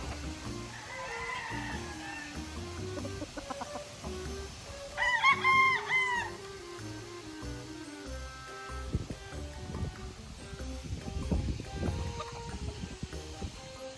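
Gamefowl stags of a gray pandak line crow repeatedly at a three-stag cockfighting derby, one loud nearby crow standing out among fainter crows and clucks, with background chatter and crowd noise.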